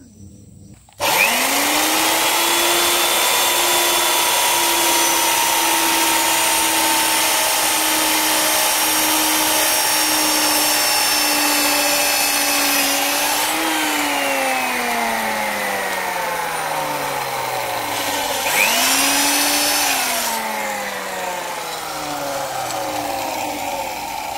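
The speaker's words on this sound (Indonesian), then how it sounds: "Lanjut untuk pengujian bor dari menggunakan mata bor ini." A power drill fitted with a drill bit, powered by a 1000-watt solar backup battery system, whines loud and steady for about twenty seconds, its pitch dipping and recovering twice as the load changes, with no talking.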